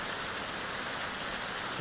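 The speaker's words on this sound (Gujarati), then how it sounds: "ફૂલ વરસાદ પડી રહ્યો છે હમણાં, તમે જોઈ શકો છો" Heavy rain falls steadily in a continuous dense hiss, fairly quiet and even throughout, with no clear speech over it.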